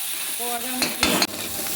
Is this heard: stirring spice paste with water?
yes